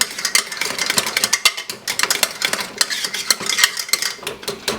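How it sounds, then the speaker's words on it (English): A spoon briskly stirs a quarter teaspoon of white pepper into a potato lasagna mixture, with dense rapid scraping and clinking against the bowl, close and fairly loud, continuous for a few seconds. "Give that a mix."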